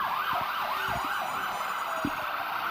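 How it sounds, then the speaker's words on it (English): A warbling ambulance siren sweeps up and down in quick repeated cycles during a 1994 Santa parade in Beverly, Massachusetts, moderately close, over low rumbling traffic. "And an ambulance from Chalk Ambulance Service."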